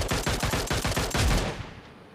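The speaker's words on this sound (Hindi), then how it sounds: "शॉट गन से ही वो मर जाता है।" Repeated shotgun blasts from the BGMI battle royale game fire in a quick, evenly spaced rhythm, about a half-dozen booming shots in succession, loud and close, ending in a brief fading tail.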